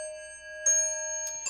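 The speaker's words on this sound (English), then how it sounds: "It was kind of this bell that you're hearing right now," A metronome-like bell rings with a clear sustained tone that decays slowly, followed by a couple of brief, softer metallic strikes near the end, heard alone in a quiet room.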